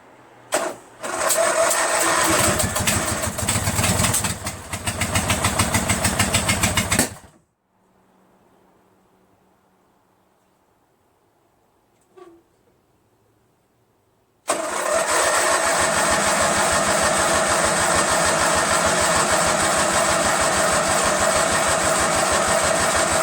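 Briggs & Stratton engine on a Craftsman LT1000 lawn tractor cranking and catching, running loud for several seconds, cutting out into near silence with a faint click, then restarting and running steadily and loudly.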